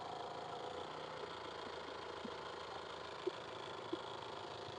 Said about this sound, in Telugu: సింగిల్ సెల్ఫ్ అయితే బండి స్టార్ట్ అవుతుంది